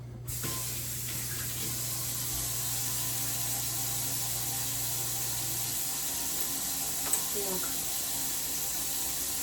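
Water runs steadily from a tap, a constant hissing spray with a faint hum underneath and a few small clinks near the end.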